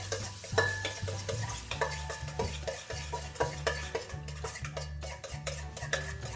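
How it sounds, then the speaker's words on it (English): A spoon stirs butter and bananas in a saucepan, producing rhythmic scraping and clinking strokes at a steady pace over a soft sizzle, close and without talking. "So I'll give that a mix."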